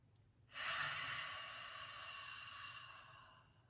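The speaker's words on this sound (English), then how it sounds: "Deep breath in. Deep breath out." One slow, deep breath drawn in and let out, soft and close, in a quiet room with no talking.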